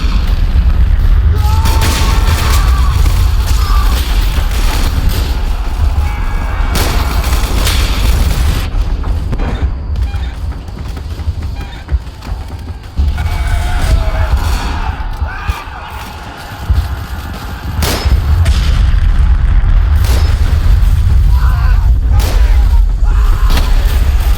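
Gunfire and artillery rattle through a Roblox First World War battle, with repeated heavy booms and sharp shots at irregular intervals. The explosions vary between close and more distant, and a low rumble runs underneath throughout.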